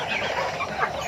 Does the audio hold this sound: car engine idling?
no